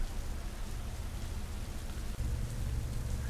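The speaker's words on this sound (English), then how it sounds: "It is raining." Steady rain falls during a rainy day at a campground while living in a van, a continuous dense hiss with low rumble and no talk.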